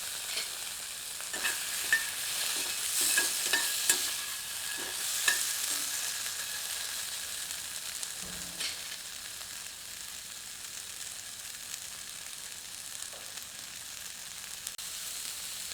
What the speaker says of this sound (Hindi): तीव्र आंच पर भूनकर हमें इनकी ऊपरी सतह को थोड़ा सा करारा करना है।